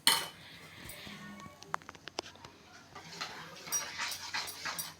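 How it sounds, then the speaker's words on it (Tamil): A metal tawa is set down on a gas stove for an egg omelette, giving a few sharp clanks and clinks near the start and middle, followed by softer scraping and handling noises. "இப்போ வந்து கேஸ் ஸ்டவ் ஆன் பண்ணியாச்சு. இப்போ தவா வச்சிடலாம்."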